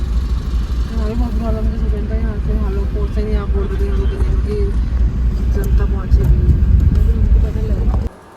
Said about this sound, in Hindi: 1 घंटा हो गया जाम में फंसे हुए।